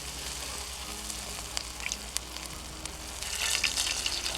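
Freshly caught fish fry in a hot pan at a camp, with a steady close sizzle and scattered sharp pops that swell louder near the end, and no talking.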